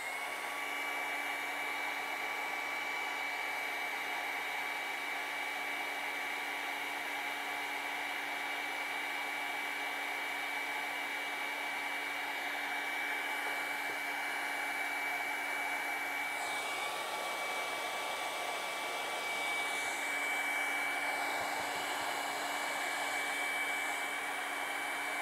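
A hair dryer drying acrylic paint on a red Christmas ornament painting runs steadily and loudly for the whole stretch, a constant whirring hum with a slight shift in pitch partway through as it moves.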